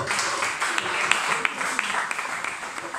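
A church congregation applauds and claps together in praise of Jesus Christ, a dense steady patter of many hands with scattered sharper claps and faint voices mixed in throughout.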